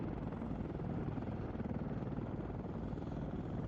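Helicopter in the Arma 3 military simulation, a steady broadband rotor and engine roar sustained at constant loudness throughout, with no talking.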